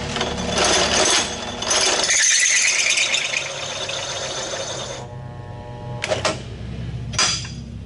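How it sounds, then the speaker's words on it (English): A loud step drill bit grinds and rattles through metal for several seconds while making a tire bead breaker, slowing and stopping, followed by a few brief bursts of drilling. "I'm going to go ahead and give this step bit a try"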